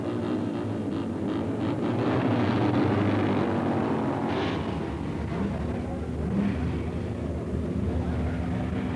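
A motorcycle makes an all-out drag strip run at the 1965 AHRA Winternationals, Bee Line Dragway, Arizona: a loud, continuous engine roar and rumble that holds steady throughout, with no voices.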